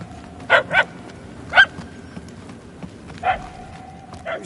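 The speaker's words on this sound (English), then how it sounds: "The barks are getting louder at least." A dog barks in the Guardians of the Galaxy video game, several short, separate barks spaced irregularly and sounding moderately distant, over a quiet game ambience.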